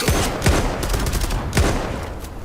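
Kar98 bolt-action rifle fire in a video game, several loud sharp shots cracking over dense, noisy battle ambience.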